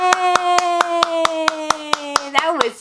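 About a dozen crisp hand claps in a steady rhythm, close by, over a sustained sung tone that slides down at the end.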